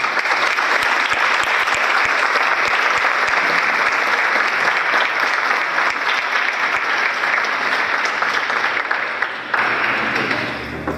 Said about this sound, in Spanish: Por favor, recibámoslo con un fuerte aplauso.